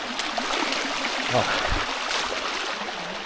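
Footsteps splashing through a cold stream on a pine forest trail, with a steady rush of running water throughout and brief sloshing splashes near the middle, a voice exclaiming quietly over it.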